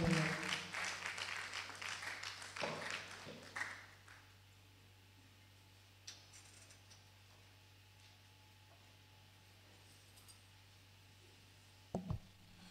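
A church congregation at a worship service breaks into loud, dense applause that fades out after a few seconds, leaving a quiet hall with an electrical hum and a few scattered knocks.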